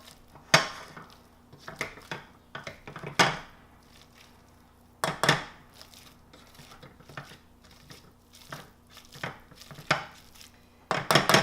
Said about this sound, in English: I'm just going to mash them with this potato masher and get them smooth